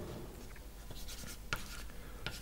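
Marker or chalk writing on a board during an organic chemistry lecture, soft scratchy strokes and taps in short irregular bursts, faint against room noise.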